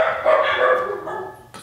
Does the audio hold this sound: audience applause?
no